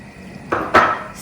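A spoon knocking and scraping in a pot of beans being stirred after salt and coconut oil go in, two quick clattering hits close by, with no voices.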